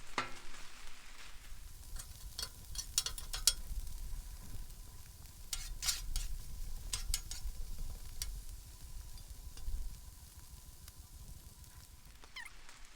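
Fried rice with bacon cooking on a hot Blackstone griddle, a steady close sizzle under repeated sharp metallic scrapes and taps of a spatula against the flat top, no voices.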